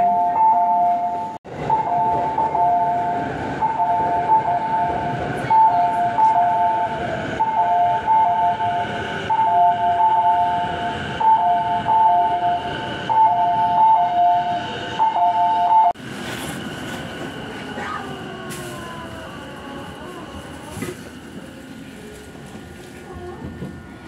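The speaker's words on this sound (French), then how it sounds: "Le train est voie 1 part à 5h58." A Saikyo Line train in Japan sits at the platform, with a loud, rumbling station ambience and a repeating electronic chime or tone for much of the time, shifting to a quieter running hum later, with voices audible.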